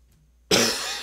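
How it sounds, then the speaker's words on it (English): A single harsh cough bursts out loudly and close after a moment of near silence, then trails off with a rough, breathy tail. "I know the coughing isn't a very pleasant sound."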